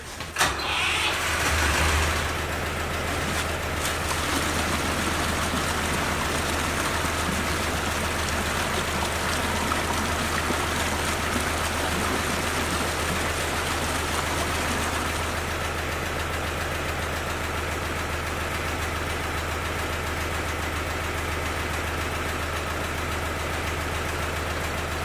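A water well pump engine is started by its starter button, catching at once with a brief burst, then settling into a steady, loud idle with a low constant hum and hiss that continues throughout.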